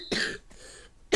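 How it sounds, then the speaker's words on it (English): Two rough coughs, one harsh burst followed by a softer rasp, then a third sharp cough starting at the end, close and loud with no talking. "Sorry about all the coughing"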